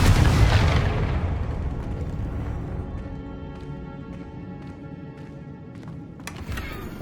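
A Confringo fire spell explodes in the video game Hogwarts Legacy, a loud booming blast up close that rolls away into a long fading rumble, with faint game clicks and tones afterward.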